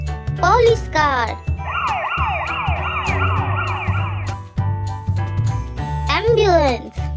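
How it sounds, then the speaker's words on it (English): A police car siren wails in several rising and falling sweeps for a few seconds, with a voice heard speaking before and after it. "Police car."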